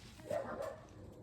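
A dog barks and whimpers in a garage while someone works on a 2006 Audi A4. Two short yelping barks come moderately close, over a low background rumble.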